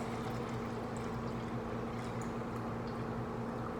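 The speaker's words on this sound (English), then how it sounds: "So you're just gonna pour your water in until you start to balance." Water poured steadily into a container for kitchen prep, a continuous close rushing stream with no pauses and no talking.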